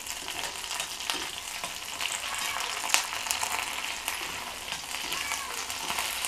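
Ingredients for fenugreek tomato chutney fry in a pan, giving a continuous close sizzle with occasional crackles and stirring scrapes.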